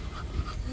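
A Rottweiler pants in quick, steady breaths, close and fairly quiet, with no voices over it for the brief moment.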